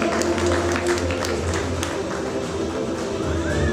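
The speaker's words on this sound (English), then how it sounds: "Parents, we request you to applaud for the winners" Parents in an audience clap for student prize winners at a school annual day event, a steady, dense wash of applause that carries through the whole stretch over a low hum.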